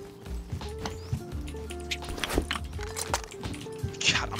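Horse hooves clip-clop in a video game, a quick, steady rhythm of hoofbeats close by, with other game sounds layered around them.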